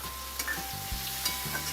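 Tomato and spices stirred in a pan while cooking a Maharashtrian paneer and capsicum dry sabzi, a soft sizzle with a few scraping and clinking spoon strokes, close and fairly quiet, with no talking.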